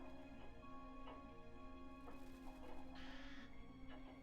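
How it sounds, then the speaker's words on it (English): A bird in the video game Bayonetta 2 gives a few short, faint caws at irregular intervals over a steady background hum from the game's soundtrack and ambience. "There was a bird."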